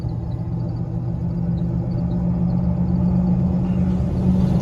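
A car with a rebuilt front end accelerates along a road, a steady low engine rumble and road noise rising gently in loudness over a few seconds.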